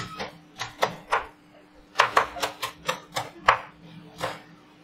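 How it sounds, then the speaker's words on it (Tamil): Green chillies being chopped with a knife on a board for a home-cooked greens dish: about a dozen crisp, close knife strikes in an uneven, quick rhythm with no talking. "இதுக்கு வந்து ரெண்டே ரெண்டு பச்சை மிளகாயை இதே போல் பொடிச்சு பொடிச்சா கட் பண்ணிக்கலாம்"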